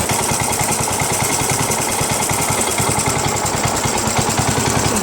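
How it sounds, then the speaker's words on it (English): A Yard Machines 1742 lawn tractor engine idles after warming up, a loud, steady, close chugging putter with an even rapid rhythm and no break. "Engine just had to warm up."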